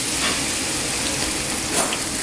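Food frying in a generous amount of oil, giving a dense, continuous crackling sizzle that stays loud and close throughout with no voices.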